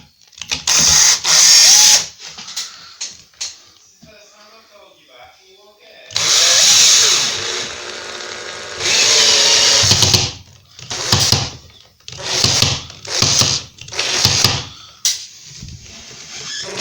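A power drill drives a screw into a kitchen cabinet during fitting, revving in several short close bursts separated by pauses, with someone talking between them.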